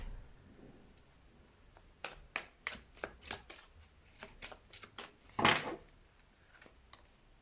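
Tarot cards being shuffled for a reading, heard as a close run of quick, crisp riffling slaps and snaps that end in one louder flurry.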